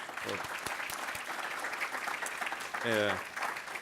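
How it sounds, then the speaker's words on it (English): Scattered clapping from an audience runs throughout, with a brief voice rising above it near the end. "she deserves another round of applause"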